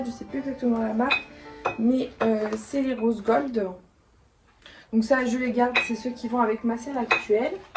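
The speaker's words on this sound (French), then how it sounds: "c'est la breloque de la clé là qui n'arrête pas de faire du bruit" A metal key charm jingles and clinks in short bursts during tack sorting, beneath continuous speech in French with a brief pause midway.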